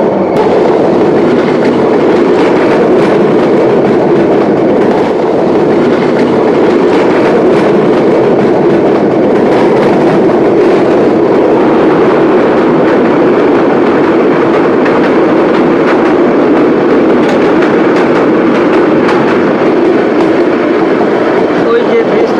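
Subarna Express train runs on the Chattogram to Dhaka line, a loud, close, continuous rumble and roar of wheels on rails with rhythmic clatter throughout, a voice talking over it.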